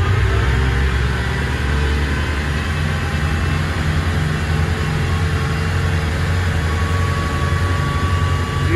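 A loud, steady roar of twin Volvo Penta KAD300 diesel engines on a Birchwood 370 Commando motorboat accelerating onto plane, a deep low rumble holding constant throughout, powerful and close, with no pauses.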